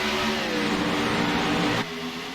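A race car engine accelerates hard at a green-flag restart at Atlanta, a loud, sustained droning rev with a steady tone that drops abruptly near the end.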